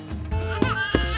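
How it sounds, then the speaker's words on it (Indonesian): Recorded infant crying played from a phone speaker, a short whimpering, wavering cry rising over a steady low background hum with brief louder bursts. "dia meletakkan bunyi bayi nangis di HP-nya"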